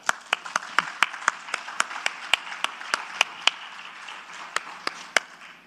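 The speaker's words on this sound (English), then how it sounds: "So big round of applause for that." Applause at a Montessori national conference in Mumbai, sparse individual claps in a steady rhythm, crisp and fairly close, from a small cluster of hands rather than a full crowd.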